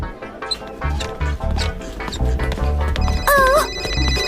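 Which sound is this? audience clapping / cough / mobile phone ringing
mobile phone ringing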